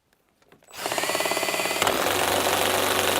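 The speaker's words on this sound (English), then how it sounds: "the DeWalt is just not liking this at all" A DeWalt cordless drill labors under heavy load, starting after a brief quiet moment and then running loud and steady with a pulsing, strained whine for about two and a half seconds.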